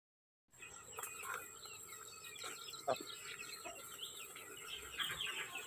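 Pet chickens and young chicks cluck steadily nearby, soft overlapping calls with a few sharper squawks against a constant background hiss.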